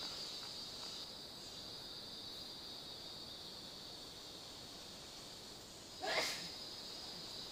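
A single sneeze from a person outdoors on Ko Lanta, Thailand, sounding once near the end as a short sharp burst over steady insect chirping.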